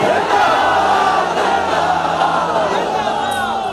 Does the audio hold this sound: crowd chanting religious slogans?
yes